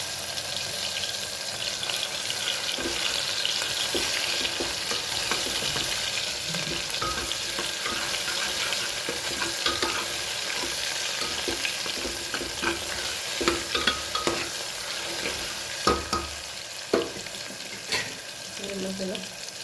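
Garlic chutney sizzles steadily in hot oil for the whole stretch, with a spatula scraping and clicking against the pan more often toward the end, close and fairly loud with no voices.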